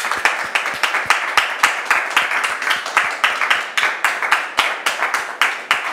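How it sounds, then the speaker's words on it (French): Studio audience on a French-language talk show claps to welcome a woman guest onto the set, giving steady, fairly quick rhythmic applause from a modest crowd that carries on evenly for several seconds. "Merci public de la recevoir avec vos applaudissements."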